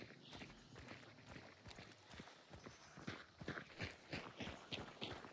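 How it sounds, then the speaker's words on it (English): A horse in the video game Hunt: Showdown, heard as a rapid run of hoof clip-clops and footfall thuds, faint and steady, growing slightly busier toward the end. "I think I heard a horse like crying inside."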